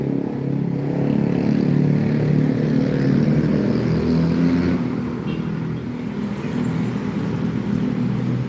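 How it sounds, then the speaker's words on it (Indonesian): An ANS bus passes in front of a bus terminal: a loud, steady engine drone builds, holds close by, then eases slightly as it moves on, with no talking. "Ada bus ANS melintas di depan terminal"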